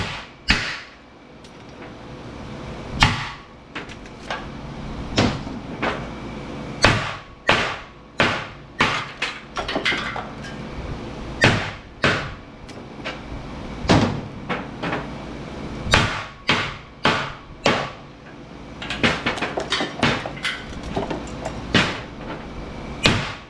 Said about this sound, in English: You just crack them with a hammer.